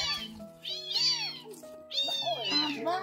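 A cat met along a path in a rural tribal area meows several times in short, rising and falling calls, fairly close and clear, over a quiet background.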